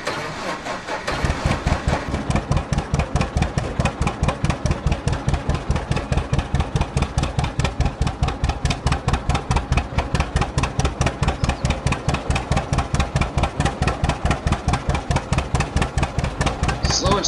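A John Deere Model D antique tractor in Farming Simulator 19 starts up and settles into a loud, steady two-cylinder putt-putt, its regular pulsing beat running close and unbroken throughout.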